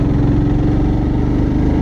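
Motorcycle engine running in the mountains of Arunachal Pradesh near Tenzingaon, a close, loud, steady low drone with a rough pulsing throb and no voices.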